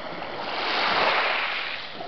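Ocean waves surge and wash continuously, a broad rushing swell that peaks midway and eases again, with no voices over it.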